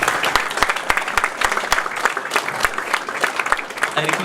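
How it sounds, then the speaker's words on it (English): An audience at a National Security talk in Udupi applauds, with sharp individual claps standing out over a steady wash of clapping from the gathering. "request all the gathering to please appreciate and request them to applaud."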